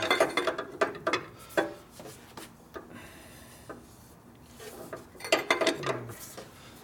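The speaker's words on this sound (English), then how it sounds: "I am going to use this one for torquing though." A ratchet wrench clicks in quick bursts while torquing bolts on the top end of a 1958 Harley-Davidson 74ci panhead, close and loud, with pauses between pulls.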